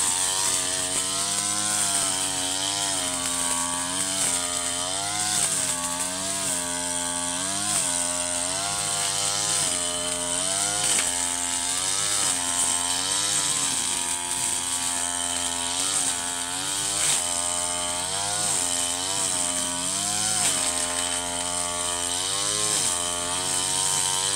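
A petrol grass cutter runs nonstop while clearing a banana plantation, its engine whining loud and close, with the pitch rising and dipping in frequent revs.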